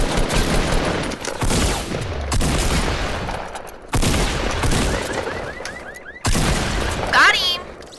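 Rocket launcher fire and explosions in the video game Fortnite, a dense barrage of loud booms and shots that keeps going throughout, with excited voices talking over the blasts.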